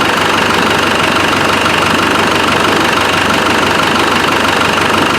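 A Land Rover 300Tdi diesel engine with air in its fuel runs steadily: a loud, constant, close diesel clatter and drone with an even rhythm and no talking.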